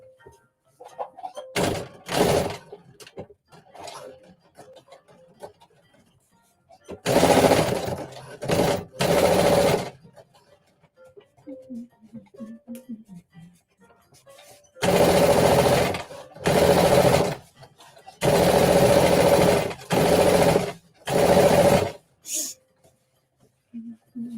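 A sewing machine top stitches a dress waistband in several loud, close bursts of rapid stitching separated by pauses, with soft background sounds and a voice speaking between runs.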